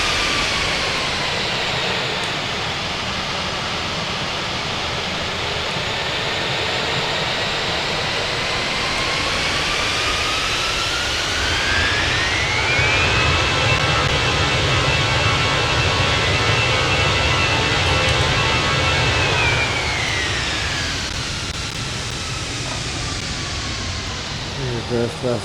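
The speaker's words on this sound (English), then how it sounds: "The engines are ready to go, and we're going to listen to what it sounds like real quick before we wrap up this review." Fenix A320 airliner jet engines in a flight simulator, heard from outside during reverse thrust: a steady, loud roar with a whining tone that rises and swells midway, then falls back, continuous and without talk.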